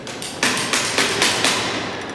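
Repeated hammer blows while stretching canvas over a wooden stretcher frame, about five sharp, close, loud strikes at a steady pace with no talk.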